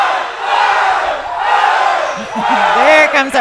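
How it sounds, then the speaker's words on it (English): High school volleyball crowd in a gym cheering and shouting during a rally, loud swelling voices rising in waves, with a commentator talking over it. "There comes our crowd alive a little bit."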